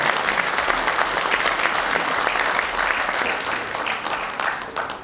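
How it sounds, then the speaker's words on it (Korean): A large crowd at a rally for the successful hosting of the PyeongChang Olympics applauds Minister Do Jong-hwan, with dense, steady clapping that fills the room for about five seconds and fades slightly toward the end. "도종환 장관께 박수 한번 보내주시기 바랍니다."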